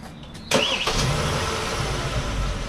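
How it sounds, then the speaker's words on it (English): A 2015 Hyundai Genesis car engine cranks and catches with a sudden loud start, then settles into a steady, smooth idle. "So I'm gonna start my car up."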